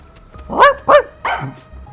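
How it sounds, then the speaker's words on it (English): Dog in a video game, Master Detective Archives: Rain Code, giving two sharp, close barks and then a softer yip, loud and alone against a quiet background. "Is that a dog?"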